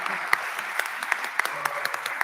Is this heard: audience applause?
yes